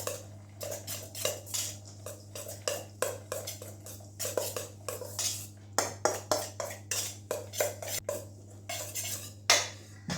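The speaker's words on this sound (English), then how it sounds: "So then you mix all of this together to combine it." A utensil stirs and scrapes a savoury filo wreath filling mixture around a bowl, with steady rhythmic clinks and scrapes repeating about twice a second over a low constant hum.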